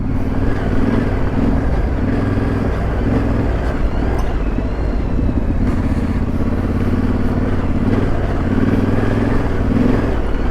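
A 450 off-road motorcycle is ridden through a whooped-out trail section on a loaded adventure ride. The engine drones close and loud without a break, its revs swelling and dipping over the bumps.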